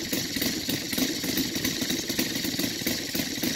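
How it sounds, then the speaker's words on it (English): Saito FG-84 gasoline model aircraft engine with a Top Flight 24x10 propeller idling at steady low speed, a continuous even putter with a light rattle, close and alone without any voices. "and that's the way an engine should idle"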